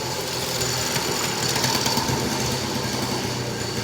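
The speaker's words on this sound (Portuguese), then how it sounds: "o motinha elétrica ali" Small electric motorbike passing on a street, a thin high-pitched motor whine swelling slightly midway amid continuous background noise.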